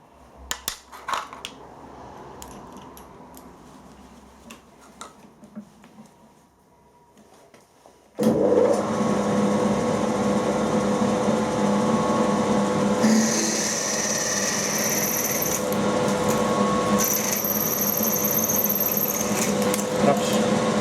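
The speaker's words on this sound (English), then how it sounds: "we'll try it with a quarter drill on the same speed" A quarter-inch drill bit cuts into tough, stringy metal on a powered drilling machine. Quiet handling knocks come first, then a loud, steady machining roar with a high whine starts abruptly and runs to the end.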